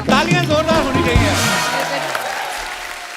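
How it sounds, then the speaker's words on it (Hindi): Studio audience at a Hindi television comedy talk show applauding and cheering a guest's entrance, loud and close, while a host speaks over the start before the clapping fades out. "तालियां जोरदार होनी चाहिए।"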